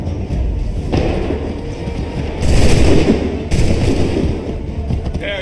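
Musket volley in Assassin's Creed III, heavy thuds and cracking blasts in two loud bursts around the middle, over a dense battlefield rumble with background shouting.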